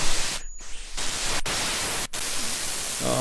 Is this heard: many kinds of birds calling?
no